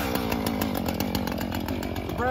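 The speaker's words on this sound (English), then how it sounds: "Usually Husqvarna is 3 times, and then you'll hear it like want to kick over, and then you kick it down and fire it, right?" A brand-new Husqvarna chainsaw fires up and runs, its engine buzzing loud and steady with rapid revving pulses for the whole stretch, close to the listener.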